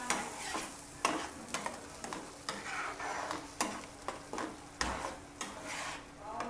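Tomato chutney tempering being stirred in a pan for idli and dosa, with a soft sizzle under repeated sharp scrapes and taps of a spoon against the pan at an uneven rhythm, no speech.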